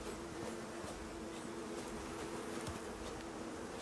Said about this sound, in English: So there's 2 sets of bees in here now.